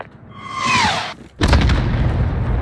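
A single heavy boom from an artillery or vehicle-mounted gun strike in Call of Duty Modern Warfare (2019), The Embassy mission, hitting loud and close after a rising whistle and leaving a rumbling, crackling tail.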